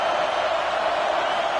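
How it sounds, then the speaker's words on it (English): A stadium crowd in the College Football 26 video game gives off a dense, continuous roar, loud and steady throughout, with no distinct cheers standing out. "Listen to the crowd energy here in the early going. This is a tough environment for visitors."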